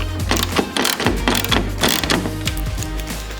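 A power driver whirs and ratchets in quick bursts, driving bolts to mount a genuine Porsche GT3 tail light onto a 3D-printed Porsche body, close and loud with mechanical clicking.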